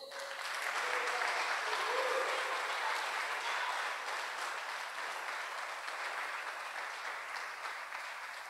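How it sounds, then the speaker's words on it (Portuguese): A church congregation applauds God during a Portuguese-language sermon, a steady, sustained wash of crowd clapping that holds at an even level throughout, somewhat distant and reverberant. "Aplaudam a Ele."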